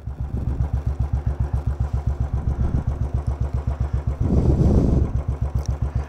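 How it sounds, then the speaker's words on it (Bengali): A motorcycle rides along a valley road in the Warwan and Marwah valleys of Jammu and Kashmir, its engine thumping in a steady close rhythm, swelling into a louder throttle surge near the end before settling back; nobody speaks. "কোথাও মোটরসাইকেল না দাঁড় করিয়ে সোজা এগিয়ে যাচ্ছি"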